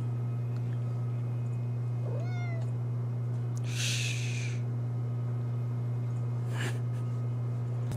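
A cat gives a single short, faint meow indoors, followed by a couple of brief soft noises, all over a steady low electrical hum.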